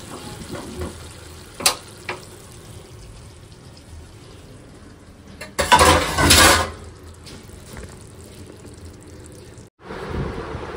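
Chicken and eggs cooking in a pan at home, a steady frying sizzle broken by a few clattering knocks and a loud burst of hissing midway.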